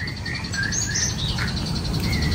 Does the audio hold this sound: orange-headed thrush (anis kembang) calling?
yes